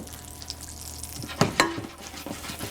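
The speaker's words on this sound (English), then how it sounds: "And I'm going to saute it until it's brown." Mushrooms seasoned with salt and pepper sautéing in a pan, a steady soft sizzle broken by a few sharp stirring knocks and scrapes, close and without talk.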